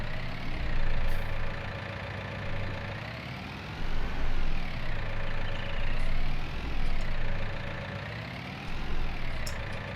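Tractor engine in Farming Simulator 19 running steadily near idle, a continuous low mechanical drone with slow rises and falls in pitch as it revs gently, heard alone throughout.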